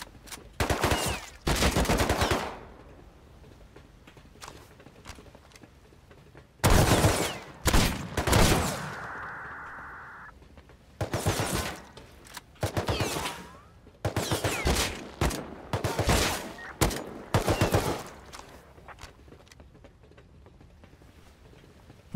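Gunfire in the video game Rust comes in several loud bursts of rapid shots separated by short quiet gaps, the clusters close and sharp.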